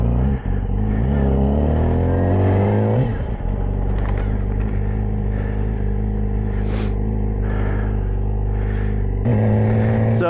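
A Yamaha R6 motorcycle accelerates on a rainy road, its engine revving up through rising pitch in loud, close sweeps, easing off briefly, then climbing again near the end over a steady rumble.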